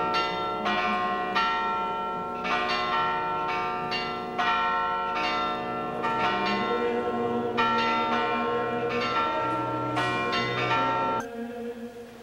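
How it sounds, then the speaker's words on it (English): Four church bells ring in a steeple at Mount Angel, sounding a continuous series of resonant overlapping peals that cut off near the end. "within the steeple are 4 marvelous bells that still ring and call us to God's service."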